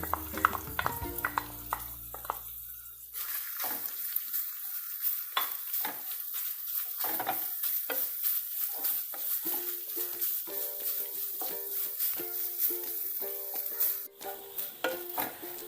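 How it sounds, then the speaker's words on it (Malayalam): Grated coconut is stirred and roasted in coconut oil in a pan, with a soft sizzle under repeated scraping strokes of a spoon against the pan. "ഒരു കപ്പ് നാളികേരം ചെരുകി വെച്ച നാളികേരം ഇട്ട് കൊടുക്കുക ഇത് നന്നായി ഒന്ന് വറുത്തെടുക്കാനാണിത്"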